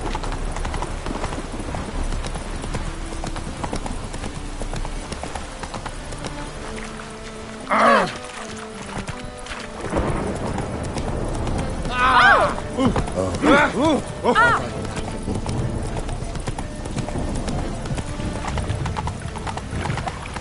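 Hooves of Geralt's horse Roach clip-clop at a gallop in The Witcher 3, a steady rhythmic drumming under wind and rain, with a louder burst of movement and a brief whinny-like snort midway; a voice speaks briefly.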